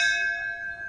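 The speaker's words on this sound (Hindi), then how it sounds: "अबे घंटी मार दे।" A doorbell rings at a house door in a Hindi-dubbed action movie, a sustained bright metallic chime that decays slowly, loud and alone with no talking.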